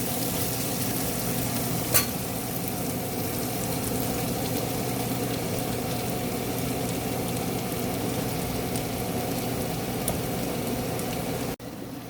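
Paneer and mixed vegetables for biryani fry in a pot with a dense, continuous sizzle and soft steady stirring, one brief clink early on, no talk, cutting off at the end.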